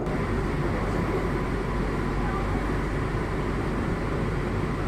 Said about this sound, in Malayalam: ഇപ്പോൾ വീണ്ടും പുറപ്പെട്ടിരിക്കുകയാണ്